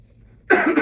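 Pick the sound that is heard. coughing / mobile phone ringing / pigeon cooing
coughing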